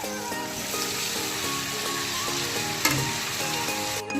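Fish sizzles and fries steadily in a pan of hot oil for a Bengali kacha machher jhal, with a continuous crackling hiss, occasional stirring clinks and a brief louder clatter near the end.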